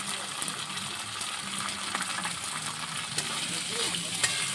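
Hilsa fish head frying with turmeric powder in a wok, a steady hissing sizzle with occasional sharper crackles and stirring clicks, fairly close and even throughout.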